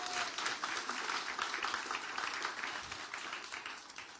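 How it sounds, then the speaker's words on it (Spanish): A church congregation gives a sustained round of applause, many hands clapping in a dense, even wash that carries on throughout and tapers slightly at the close. "¿Por qué no dan un fuerte aplauso por su vida?"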